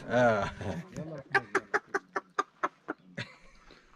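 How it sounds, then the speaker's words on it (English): Chickens cluck in a small Moroccan village hit by an earthquake: a run of short, sharp clucks in a quick series follows a voice, fairly close, with the voice briefly returning near the end. "There's the chickens."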